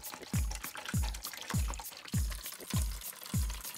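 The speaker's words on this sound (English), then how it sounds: "Let me fill up this pool with some water." Water pours into a toy pool in repeated glugging bursts, about six evenly spaced gulps with a dropping pitch, close and fairly quiet.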